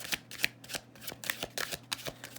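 Tarot cards are shuffled in a series of soft, quick riffling bursts at a steady rhythm, close and quiet, with no talking.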